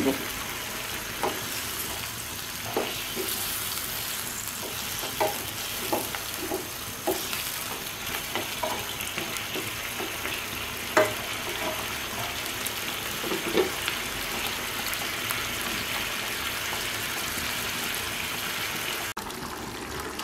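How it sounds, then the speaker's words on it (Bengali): Mutton and pointed gourd being stir-fried in a pan, with a steady sizzle and repeated scraping stirs throughout, at moderate closeness. "এবার কাঁকরোল সহ আরেকবার মাংসটাকে আবার একটু ভালো করে কষিয়ে"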